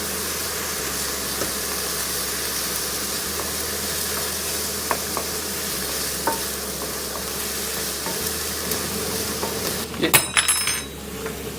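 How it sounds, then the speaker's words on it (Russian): Beef goulash with tomato paste being stirred in a pan, a steady soft frying sizzle under scattered light scrapes and clinks of a utensil, with a brief louder clatter near the end. "И помешиваем."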